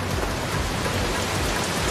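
Heavy monsoon rain pouring down in Jamwala, Gujarat, a loud, steady, dense hiss of rainfall with no let-up and no voices.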